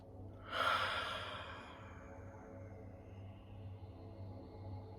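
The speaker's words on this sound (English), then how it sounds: "take 1 or 2 full breaths in and out" One deep, full exhale during a guided breathing ritual, a soft breathy rush that swells briefly and then trails off into quiet room hum, close and gentle.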